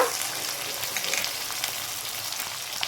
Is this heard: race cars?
no